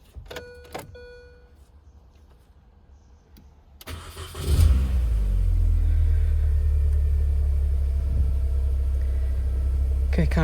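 A 2001 Mini R50 cranks and fires after a quiet stretch with a few clicks and a faint fuel-pump whine, then settles into a steady, loud, low idle rumble that continues to the end.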